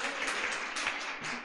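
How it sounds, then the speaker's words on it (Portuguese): A church congregation applauding during a service, with dense, continuous clapping at close range across the whole short stretch. "Salva de palmas."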